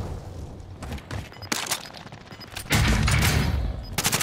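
Video game gunfire in a battle-royale style match, with loud broadband bursts of shots scattered through the clip and a heavier, sustained volley near the end, no voices present.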